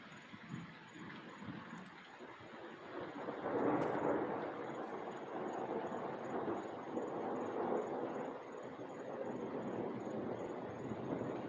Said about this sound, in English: dude, that's some heavy-duty thunder.